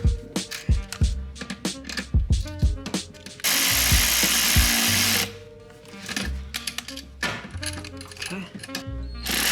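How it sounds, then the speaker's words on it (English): A power drill drives self-tapping screws into a plastic Maxton Street Pro side skirt diffuser on a car, with short bursts of whirring and clicking ratchet-like taps and one longer steady run of the motor, close up. "let's see if these self-tapping screws will get the job done here"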